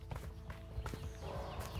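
Horse hooves clip-clopping in the video game A Way Out: close, uneven thuds of walking steps over a dense low background, continuous through the short moment.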